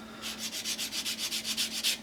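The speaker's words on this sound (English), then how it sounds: "sanding stick to smooth those" A soft sponge sanding stick rubs across a scale model seat near the headrest, making about a dozen quick, even back-and-forth scratchy strokes, close and fairly quiet, with no talking.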